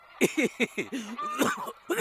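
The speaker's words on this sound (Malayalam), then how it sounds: "ഈ ഒടുക്കത്തെ വലി കാരണ ഈ ചുമ" A smoker's series of short, harsh coughs in a quick burst, close and fairly loud, followed by a raspy breath and one more cough.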